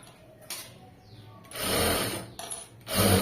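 A sewing machine stitches a blouse with a printed blue border, buzzing nearby in three quick bursts separated by brief pauses, with light handling clicks before them.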